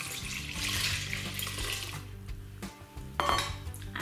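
Whole milk pours steadily into a mixing bowl for funfetti ice cream, a continuous close liquid rush that thins out near the end before a brief clink.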